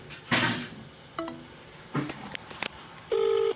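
A phone call ending abruptly: a few short clicks and handset beeps, then a steady electronic disconnect tone at the close, all fairly clear against a quiet background.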